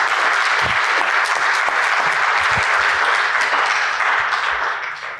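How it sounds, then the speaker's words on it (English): Conference audience giving a full, steady round of applause for two keynote speakers, dense clapping sustained evenly for about five seconds before starting to fade at the end. "Let's have a round of applause for our two keynotes."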